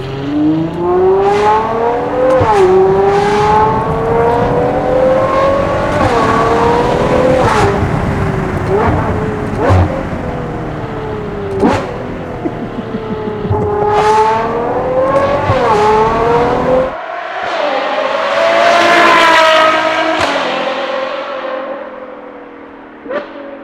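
A Novitec-tuned Ferrari Purosangue V12 revs hard again and again, loud and close, its pitch sweeping up and dropping back in repeated surges with sharp crackles between pulls, before a final roaring climb near the end.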